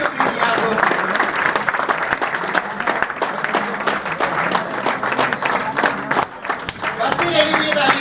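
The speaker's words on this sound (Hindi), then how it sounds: "तालियां नहीं रुकनी चाहिए आपको" A large crowd at a live show in Jaipur claps continuously, dense sustained applause filling the room, loud and close, with voices and cheering mixed underneath.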